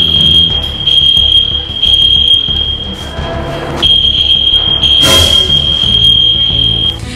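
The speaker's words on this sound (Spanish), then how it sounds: "empezó a sonar una alarma de incendio" A building fire alarm during a drill test, a loud piercing high-pitched electronic tone repeating in long steady bursts with brief gaps, over clattering room noise and a sharp burst of rustling near the end.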